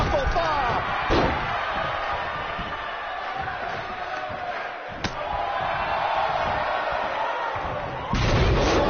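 A buckle bomb slam in the wrestling video game WWE 2K19, heard in career mode as a loud crash at about one second, with more impacts near five and eight seconds, over constant crowd roar and commentator talk.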